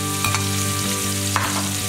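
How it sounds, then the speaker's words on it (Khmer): Garlic and chili stir-frying in a hot pan for a Khmer fermented fish and pork dip, a steady close sizzle with a few scraping stirs of the spatula, and no one talking. "យើងចាប់ដើមដាក់ខ្ទឹមសនឹងម្ទេសយើងឆាឲ្យឈ្ងុយ"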